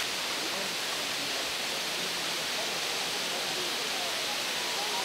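Girlevik waterfall in Erzincan, Turkey, pours as a steady, loud, broadband roar of falling water that fills the clip without pause, with no voices heard.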